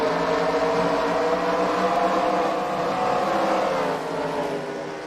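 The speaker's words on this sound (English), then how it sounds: "We are back to racing here at Knoxville." Race cars roar around the Knoxville dirt track, a dense, loud sustained engine drone with overlapping revs from several cars passing, fading slightly toward the end.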